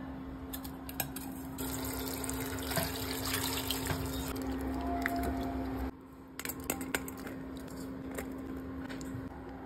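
A kitchen tap runs steadily as grapes are rinsed under it, a close continuous splash of water with brief squishy handling sounds and a short dip midway.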